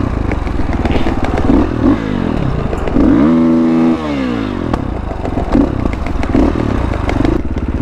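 A KTM 500 EXC-F dirt bike fitted with a spark arrestor rasps close and loud on singletrack, its exhaust note rising and falling with throttle blips, plus an even rev swell near the middle over clattering trail noise.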